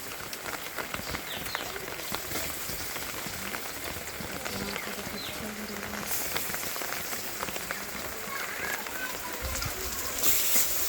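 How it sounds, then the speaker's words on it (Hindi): Rain pours steadily on a surface, a constant dense patter with scattered sharper drops; no clear speech over it. "और बारिश भी हो रहा है"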